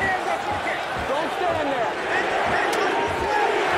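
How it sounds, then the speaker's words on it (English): Arena crowd in the fighting video game UFC Undisputed 3 rallying behind Georges St-Pierre during a bout, heard as a steady, loud, dense roar filling the whole clip. "The crowd rallying behind Georges St-Pierre."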